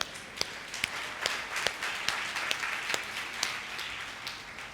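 A church congregation at a promise service claps steadily, a moderately loud patter of many hands with sharper individual claps standing out in an irregular rhythm.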